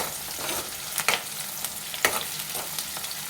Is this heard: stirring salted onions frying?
yes